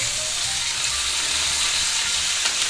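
Thick boneless pork chops sizzle loudly in a cast iron skillet, a dense, steady, close hiss of frying fat that fills the whole clip without a break, and no one speaks.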